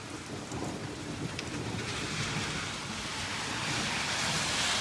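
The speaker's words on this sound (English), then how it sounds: "there's a thunderstorm going on" A steady downpour hisses and patters on surfaces during a thunderstorm, with a low rolling rumble of thunder running beneath the rain and building slightly toward the end.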